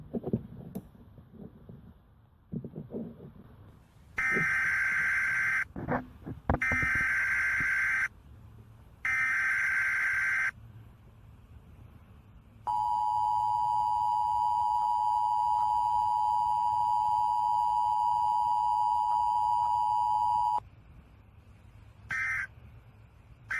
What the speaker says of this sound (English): This is an emergency action notification.